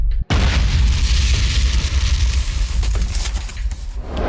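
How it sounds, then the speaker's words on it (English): A huge, loud blast erupts from an arms factory and is followed by a long, roaring rumble that fills the whole moment, with no talking. "That explosion just now. It came from the direction of our arms factory."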